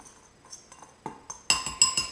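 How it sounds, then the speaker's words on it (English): A small whisk stirs dry ingredients, coconut flour among them, in a glass bowl, giving light clinks and taps that grow louder and quicker toward the end, close by with no talking. "I'm just going to grab my little whisk here, and I'm going to just give them all a stir together"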